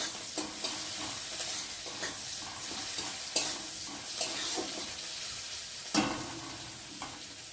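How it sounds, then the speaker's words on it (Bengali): Onions fry in a pan with a continuous soft sizzle, while a utensil scrapes and stirs at an uneven rhythm, a few sharper knocks standing out over the bubbling. "পেঁয়াজটা একটু ভালো করে ভেজে নেব"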